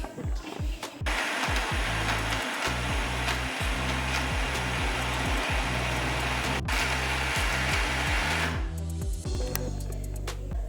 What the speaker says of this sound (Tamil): இது எல்லாத்தையும் நம்ம அரைச்சிக்க போகிறோம்.